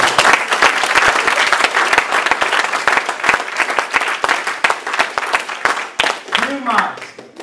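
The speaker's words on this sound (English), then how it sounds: "Let's everybody give the Lord a hand clap of praise" A church congregation claps in praise, loud sustained applause with sharp close handclaps cutting through, thinning out near the end as a voice and a brief tonal sound emerge.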